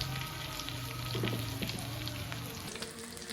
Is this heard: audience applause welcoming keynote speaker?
no